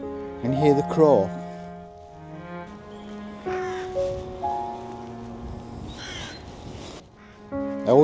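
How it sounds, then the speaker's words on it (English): A crow caws in short harsh bursts, first up close and then again later, over a background of steady hum and outdoor noise in the English countryside. "Can you hear the crow?"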